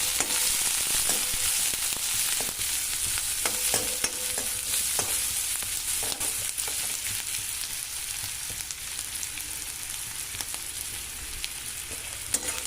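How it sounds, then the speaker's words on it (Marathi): Onions fry in oil until pink for a rustic safflower-greens dish, giving a loud, steady, close sizzle throughout with frequent small scraping and clicking stirs, no voices. "आता आपल्याला हे छान असे गुलाबी कलर येईपर्यंत भाजून घ्यायचं आहे।"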